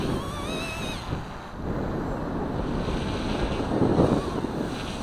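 Wind blowing outdoors during a small model helicopter test flight, a steady broadband rush buffeting the microphone, with a brief whistling tone at the start and gusts swelling and easing.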